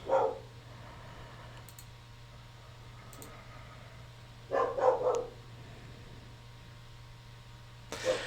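A dog barks in short bursts from across a room, once at the start, a louder cluster near the middle and again at the end, over a steady low hum with faint clicks between.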